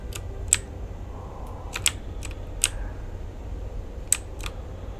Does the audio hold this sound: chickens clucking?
no